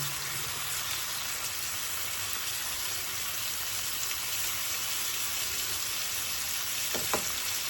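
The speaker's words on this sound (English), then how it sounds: "let it simmer for just a few minutes till the onions get heated back through" Liver and onions simmering in a pan, a steady dense hiss of bubbling and gentle sizzle throughout, with a couple of faint utensil clicks near the end and no talking.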